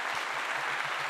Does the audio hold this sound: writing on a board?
no